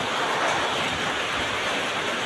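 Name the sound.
heavy rain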